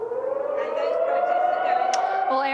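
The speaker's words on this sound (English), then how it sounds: "Aaron, you may hear the air raid siren behind me ringing out in the northeastern city of Kharkiv" Air raid siren wailing across the northeastern Ukrainian city of Kharkiv, a single rising tone that sounds distant yet clear and swells steadily, with a brief click and shift in pitch near the end.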